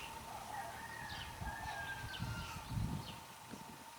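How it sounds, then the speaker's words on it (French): White chickens at the sacred baobab site in Toumousseni, Burkina Faso, give faint, scattered clucks and squawks over a steady low background hum, with no talking heard. "Voilà les poulets blancs."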